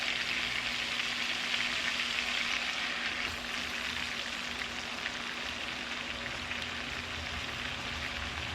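Steaks laid into a hot butter bath give off a steady, even frying sizzle, a dense crackling hiss that holds at moderate level without pauses, close by and with no one speaking.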